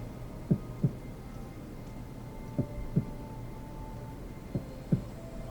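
A heartbeat sound effect gives slow, soft paired thumps, lub-dub, repeating three times over a low steady hum.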